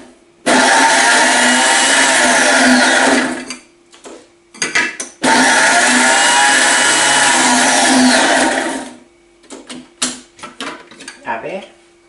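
A food processor whirs loudly in two long turbo bursts chopping orange muffin ingredients, with clattering and handling of the bowl between and after, and a voice speaking in the pauses.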